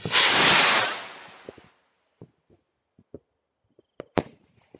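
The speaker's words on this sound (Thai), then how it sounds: "นั่นแหละเสียงปืนเสียงดังล้ว" A loud, hissing burst erupts at a New Year celebration, then scattered sharp pops and bangs crack at irregular intervals, like distant firecrackers.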